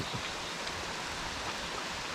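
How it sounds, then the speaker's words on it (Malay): Steady rain falls outdoors during a fishing trip, a soft continuous hiss of drops with no clear individual hits, fairly faint and unbroken throughout. "Sekarang ni kita orang masih dalam hujan ya"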